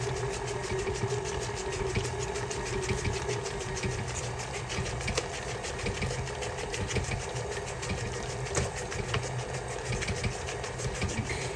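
An electric mixer whirs steadily at low speed through red velvet cookie dough, a constant buzzing drone with no talk.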